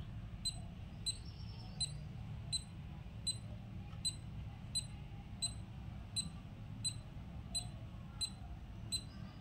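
A finger reading device ticks while taking a measurement, giving a steady run of short, sharp electronic ticks at even intervals, faint and close over a soft low background hum, with no voices.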